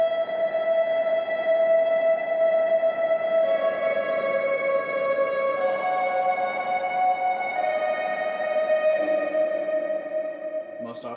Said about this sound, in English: What I use this for most of the time is I keep it on a kill dry reverb